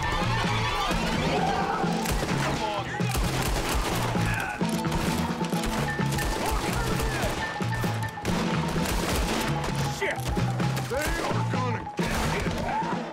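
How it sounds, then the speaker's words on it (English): Gunshots ring out in the Red Dead Redemption 2 game, a run of sharp cracks and thuds repeating across the stretch over continuous game noise and talk. "Who else is shooting?"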